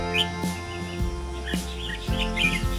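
Small birds feeding their chicks near a house give quick, bright chirps and tweets in scattered bursts, close by, over a faint steady background hum.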